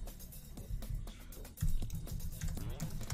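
Irregular clicks of typing on a computer keyboard, light rapid keystrokes with a couple of louder taps, heard close up beneath ongoing talk.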